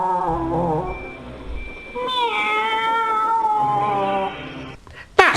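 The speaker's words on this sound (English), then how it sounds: "they heard the meowing noise again" Drawn-out, wavering meows from a cartoon cat in a railway yard at night, a low warbling cry followed by a rising, sustained wail, close and loud, ending with a sudden sharp noise.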